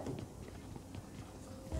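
Video game footsteps in PUBG Mobile tap along at a steady pace, mid-distance, with light rhythmic thuds over a faint background rumble.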